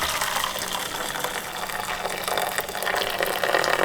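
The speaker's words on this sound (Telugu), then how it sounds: "దీంట్లోంచి వాటర్ ఒక దాంట్లో పంపుకుంటా." Boiled tamarind water pours steadily from one cooking vessel into another, a close, continuous gushing splash with no break throughout.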